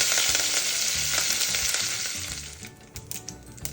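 Curry leaves sizzle and spatter loudly in hot oil during tempering for carrot rasam, a steady crackling fry that eases off toward the end with a few sharp pops, no voices.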